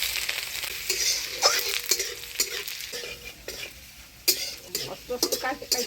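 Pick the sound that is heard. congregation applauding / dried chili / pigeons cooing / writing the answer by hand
dried chili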